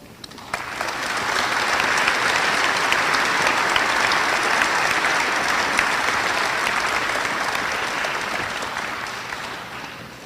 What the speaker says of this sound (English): let's give a round of applause to all these veterans that are up here.